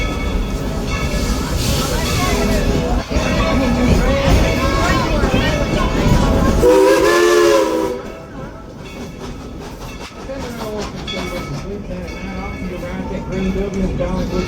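A Dollywood theme-park train rumbles along the track on its way back to the depot, a loud, steady roll of wheels and carriage noise that eases off partway through, with people talking faintly throughout.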